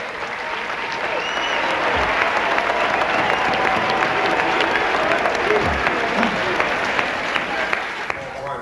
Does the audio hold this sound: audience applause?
yes